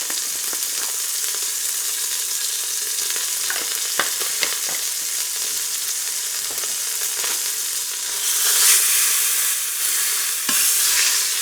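Beef stew meat searing in a hot pan, a steady loud sizzle throughout with occasional scrapes and taps as the pieces are pressed down, the hiss swelling briefly near the end.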